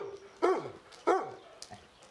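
A pet dog named Sombra, at a rustic lakeside hacienda in Mexico, gives two sharp, close barks about half a second apart, then a softer, shorter yip in a quiet setting.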